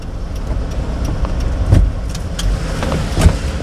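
A car engine hums and swells during a Korean driving lesson for a first-class licence, rising in two brief revs as the accelerator is pressed, close and steady with no talk.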